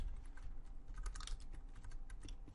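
Fingers tap quickly on a computer keyboard, a close, quiet, continuous patter of key clicks with no talking.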